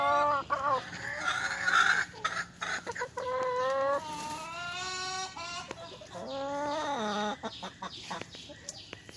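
A Brahma hen clucks close by in repeated drawn-out, wavering calls and shorter clucks, loud and continuous with brief pauses.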